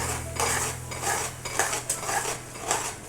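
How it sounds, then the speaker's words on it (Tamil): Sliced raw mango tossed with sugar in a metal pan while making mango candy, a spoon scraping and clinking against the pan in rhythmic strokes, about six scrapes, close and clear with a low steady hum beneath. "இது நல்லா அப்படி கிளறிக்குவோம்."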